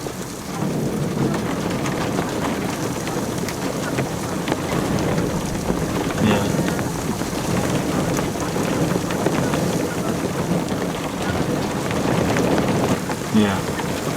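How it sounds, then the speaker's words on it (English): Heavy rain pours steadily through a storm, a dense continuous hiss drumming on a surface nearby, with low rumbling beneath and a couple of sharper hits standing out partway through. "It's got a bit intense here, folks. Mega storm."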